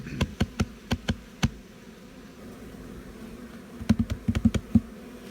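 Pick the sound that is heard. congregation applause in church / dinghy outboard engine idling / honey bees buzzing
honey bees buzzing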